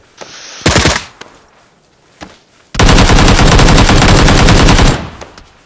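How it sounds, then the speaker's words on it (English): Video game gunfire aimed at the player: a short burst of rapid automatic fire, a lone shot, then a long, loud, unbroken rattling volley lasting about two seconds, close and dominant with no talk over it. "I'm being shot from a distance, though."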